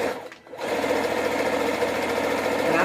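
A sewing machine runs continuously, stitching bulk hair onto a track with a steady, dense mechanical whir that starts after a brief pause and holds close and loud to the end.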